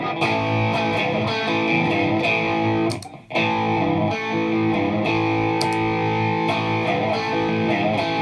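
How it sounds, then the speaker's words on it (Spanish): Electric guitar played through heavy distortion with a compressor pushed hard, giving thick sustained chords that ring loud and steady, with a brief dip in the middle before the sustained tone returns. "si yo reviento este compresor, pues obviamente voy a tener más distorsión"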